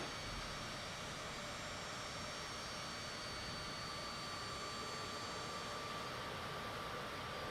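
Steady jet engine drone from an airliner in Microsoft Flight Simulator 2024, a continuous broadband roar with faint high whine, even and unbroken throughout.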